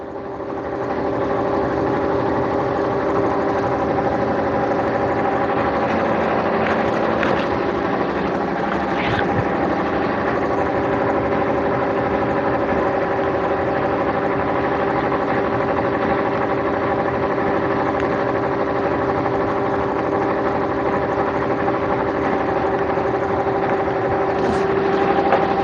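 A sewing machine runs steadily for the whole stretch, a continuous mechanical hum and whir at an even pace, close and fairly loud, with no breaks.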